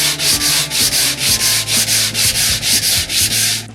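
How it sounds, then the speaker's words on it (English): Rhythmic back-and-forth sanding of a wooden speaker cabinet with 80-grit sandpaper, loud and close, about a dozen even strokes in steady succession. "Any excess masking tape can be sanded off with 80 grit sandpaper."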